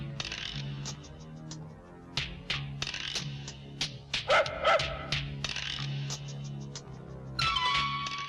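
A dog barks in short, repeated bursts inside an office, mixed with a steady background of music and other noise.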